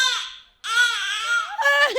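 A performer's voice imitates a crying baby, giving loud, close wailing sobs in two long bursts separated by a short pause, with a wavering whimper at the end, on a comedy show stage.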